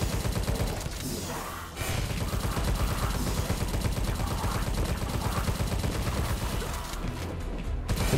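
Dense, continuous rapid gunfire from the twin-stick shooter game Tesla Force runs loud and close through the whole stretch, with a brief dip early on before the barrage resumes.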